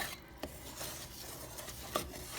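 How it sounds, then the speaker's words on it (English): A mixture stirred in a pan over medium heat, with soft continuous scraping and rubbing of a utensil against the pan and a couple of faint clinks, close and quiet with no talk. "Kind of keep stirring it over medium heat."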